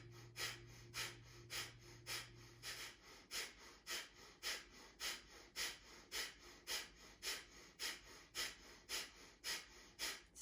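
Breath of fire, a rapid yoga breathing practice done while holding a bear grip at the chest, comes as a fast even train of sharp nasal exhalations, roughly two per second, close and quiet, with no talk.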